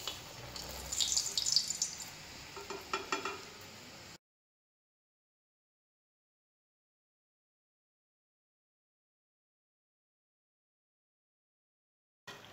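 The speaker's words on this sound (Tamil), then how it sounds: "நம்ம வந்து இப்போ முறுக்கு போடும்போது நல்லா எண்ணெயில் நல்லா கொதிக்கும்" Murukku dough frying in hot oil, giving a steady, close sizzle for about four seconds before cutting to silence. A brief burst returns at the very end, with no talking.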